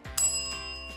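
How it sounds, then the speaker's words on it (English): A single bright bicycle bell ring, sharp and metallic, its tone lingering and slowly fading in a quiet room. "When I ring this bell"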